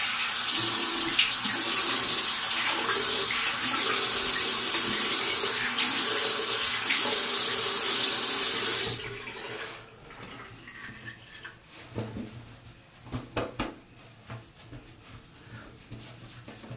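Tap water runs steadily into a bathroom sink while someone rinses off after a shave, a loud continuous splashing that stops abruptly halfway, leaving quiet clicks and small knocks.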